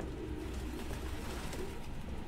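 Pigeons coo softly in the video game Detroit: Become Human, a low, murmuring flock sound over a steady ambient bed, fairly quiet and continuous.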